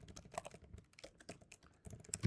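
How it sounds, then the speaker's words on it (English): Computer keyboard typing, a quick run of light, uneven clicks at close range with short pauses between bursts and a few louder strikes near the end. "we're typing this out now"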